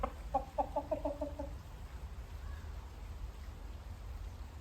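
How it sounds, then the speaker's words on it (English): A rooster clucking in the rain, a quick burst of several soft, rhythmic clucks in the first second and a half, fairly faint, then fading into a quiet low rumble of outdoor background noise. "This is a rooster"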